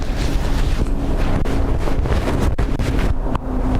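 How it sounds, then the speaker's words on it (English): Strong wind buffets an outdoor microphone at Dublin Airport, producing loud, continuous low rumbling gusts with a few brief dropouts and no speech. "I can hear that wind quite loudly myself"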